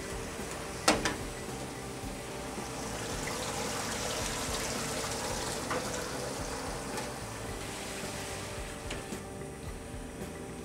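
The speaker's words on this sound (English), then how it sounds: "We turn the water back on." Tap water running steadily during the rinse of a liquid photopolymer printing plate, a faint continuous hiss and trickle with one brief splash or knock near the start.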